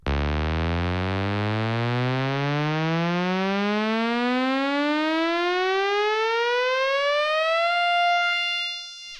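A synthesizer riser with a slow attack swells in and glides steadily upward in pitch for several seconds, bright and buzzy, before holding and fading out.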